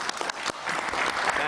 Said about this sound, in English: have a special clap for the President